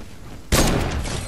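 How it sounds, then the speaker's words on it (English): Heavy sniper fire in a video game bursts in abruptly after a quiet half-second, a loud, close blast that rings on with a decaying rumble. "These guys have heavy snipers, by the way. Yeah, I'm getting shot."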